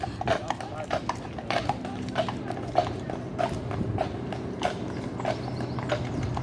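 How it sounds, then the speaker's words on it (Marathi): Police horses walk along a London road toward the palace, their hooves clip-clopping in a steady, close rhythm over street noise, with people talking throughout. "पोलीस असे घोड्यावरून जाताना आपल्याला दिसतात"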